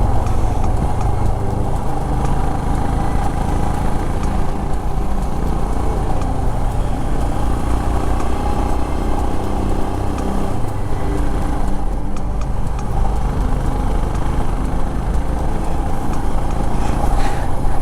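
Royal Enfield Himalayan BS6 motorcycle exhaust on a mountain road near Munnar, a loud continuous low engine drone with steady rumble throughout and no pauses, riding along without talk.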